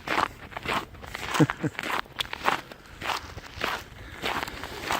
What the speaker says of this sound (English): feet crunching on the snow.